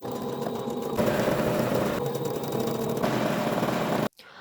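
Sewing machine running a long, steady stretch of gathering stitches on a thrifted blouse, loud and close with a continuous mechanical hum that briefly cuts off near the end.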